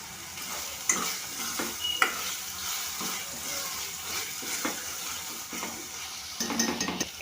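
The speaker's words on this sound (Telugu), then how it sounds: "అది పచ్చివాసన పోయేదాకా కలపెట్టుకోవాలి." A spoon stirs ginger garlic paste and kasuri methi in a frying pan, soft scraping strokes recurring about once a second over a quiet, continuous sizzle.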